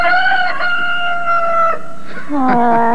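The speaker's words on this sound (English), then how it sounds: "The rooster right here." A rooster crows loudly and close in a cartoon episode, one long drawn-out cock-a-doodle-doo followed by a second, rising call.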